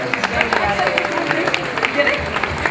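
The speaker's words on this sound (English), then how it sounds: "Let's give a nice round of applause for our volunteers." An audience at an exotic bird show applauds, a dense patter of many hands clapping with crowd murmur and voices mixed in.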